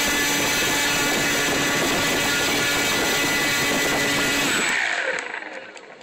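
A ParkZone F4F electric RC plane motor roars steadily at full throttle on a bench watt-meter test, a loud continuous whine that holds for about five seconds, then cuts off and spins down.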